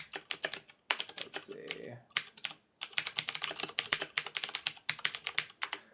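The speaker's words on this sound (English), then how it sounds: "that's the fakest typing noise I've ever heard" Rapid computer keyboard typing in close, loud bursts of clacking keystrokes, broken by a couple of short pauses, with a brief spoken interjection partway through.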